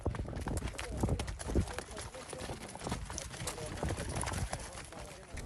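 Donkeys carrying cooking gear and baggage along a steep trail clip-clop with steady hoof beats, close and fairly loud, under outdoor background noise with some voices.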